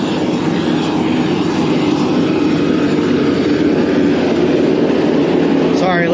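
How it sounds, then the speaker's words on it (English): A loud tractor engine passes close by, a steady heavy mechanical roar filling the whole clip with broadband noise, outdoors on a walk along a road. "Sorry, loud tractor."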